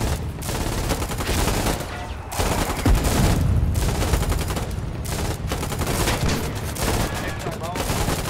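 Dense gunfire fills a Foxhole war battle: rapid bursts and sustained machine-gun rattles, loud and close, with heavier booms mixed in and voices talking underneath.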